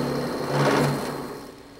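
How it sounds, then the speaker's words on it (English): A hydraulic press bending metal into graceful curves gives a brief motor whir that swells in the middle and fades out over under two seconds, close and moderately loud. "Tools, like this hydraulic press, help Marcia create graceful curves"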